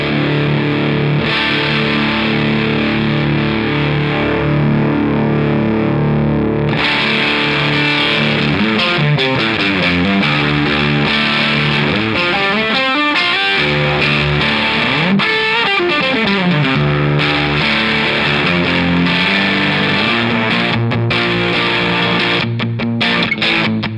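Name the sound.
guitar through Catalinbread Dirty Little Secret Deluxe distortion pedal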